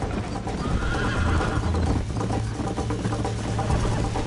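A horse in Red Dead Redemption gallops with steady, rapid hoofbeats and whinnies loudly, set against dense, continuous game music and ambience throughout.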